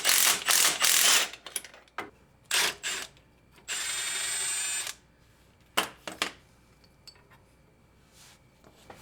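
A ratchet works loose the fasteners of a steering stabilizer on a Jeep being prepped for the Rubicon Trail, heard as several bursts of quick metallic clicking and one longer steady ratcheting run, separated by quiet pauses.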